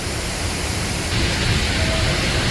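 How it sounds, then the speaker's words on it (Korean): Three waterfalls pour at once, blending into a loud, unbroken roar of broadband rushing water that stays constant throughout with no voices. "세 개의 폭포에서 동시에 폭포수가 쏟아지기 시작하는데요. 웅장한 폭포수 소리와 함께 멋진 장면이 펼쳐집니다."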